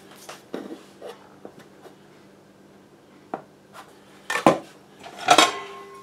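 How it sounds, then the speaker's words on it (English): Rolled pie dough is cut into fourths on a hard surface, with sparse soft taps and knife scrapes, then a few sharper clinks of a utensil against a plate or cast iron skillet. "what I'm going to do now is cut this into fourths"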